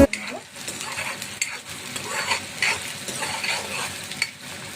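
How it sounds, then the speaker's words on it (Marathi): Onion frying in a pan for hotel-style garlic dal fry, a steady hiss of sizzling oil broken by scraping spatula stirs and light clinks, close and moderate in level with no talk. "इथे आपण पाहू शकता आपला कांदा जो आहे तो छान फ्राय झालाय"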